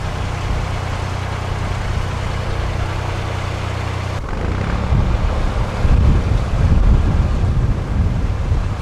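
Wind gusting over a narrowboat at a canal lock, a steady rumbling buffet on the microphone that grows stronger and rougher partway through, with no talk.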